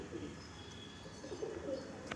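Madrasi pigeons of a pure Arshad and Dasu line give low, soft cooing that murmurs on and off over quiet background noise, faint and fairly close, with no talking.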